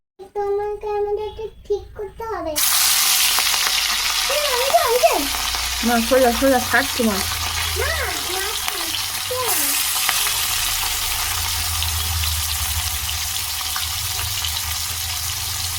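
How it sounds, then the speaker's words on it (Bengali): Fish frying in oil in a wok sends up a loud, steady, broadband sizzle that starts abruptly and continues to the end, with voices talking over it early on. "আমার মাছ ভাজা কমপ্লিট এটা মাছের ডিম ভাজছি"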